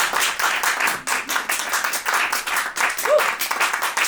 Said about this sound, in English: please applaud